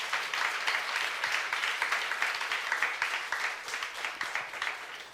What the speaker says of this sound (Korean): 함께 박수 한번 드리겠습니다